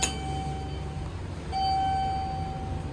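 Arrival chime of a 1985 Dover hydraulic elevator at the Kohler Design Center in Kohler, Wisconsin, fitted with a replacement Innovation chime: a thin, steady electronic tone sounds briefly, then again longer and slightly louder, over machinery hum.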